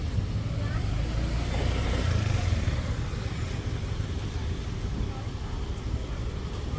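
Cars passing on a street in Bangkok beside the Prince Palace Hotel: a steady low traffic rumble at moderate distance, continuous with no distinct pauses.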